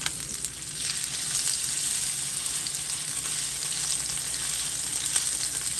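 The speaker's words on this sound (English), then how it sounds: "Hear that sizzle? That's what you want to hear." Food sizzling in a hot pan, a steady bright hiss and crackle of frying held close and even for several seconds with no talking.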